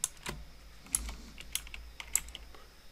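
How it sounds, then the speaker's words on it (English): Keys on a computer keyboard clack in a quick, uneven run of close, crisp taps against a quiet room. "Bad typing here."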